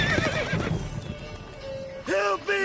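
A horse in the video game The Witcher 3 neighs with a loud, wavering whinny near the end, following clip-clopping hooves and a voice earlier, all close.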